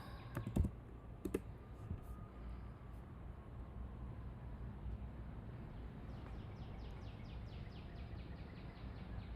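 Typing on a computer keyboard: a few quick, faint keystroke clicks early on over a low steady room hum, with the rest mostly background noise.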